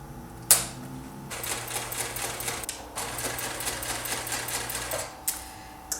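A sewing machine stitches a quarter-inch seam in steady rapid bursts for a few seconds, pausing briefly, then starting again, close by with a click at the start.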